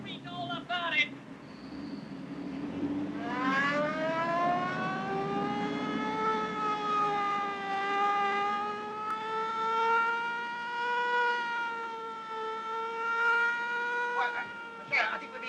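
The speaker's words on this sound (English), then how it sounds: "Get your foot off that siren." A car siren wails loudly and steadily, climbing in pitch and then holding a long sustained tone before fading, while people talk over it.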